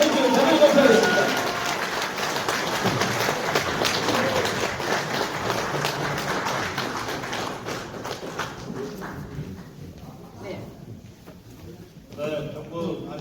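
An audience at a lecture-style talk show in a hall at the Gumi Saemaul theme park claps to welcome the speaker, in a dense, steady ovation that thins and fades out toward the end, with speech over it.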